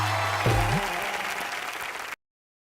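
Studio audience applause on a Hindi TV comedy show, a steady wash of clapping with a brief voice near the start, cutting off abruptly after about two seconds.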